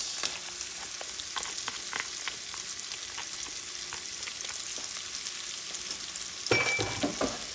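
Chopped onions, cilantro and culantro sizzle in a pot of hot oil for Puerto Rican sausage soup, a constant crackly hiss with scattered pops, swelling into a louder burst near the end.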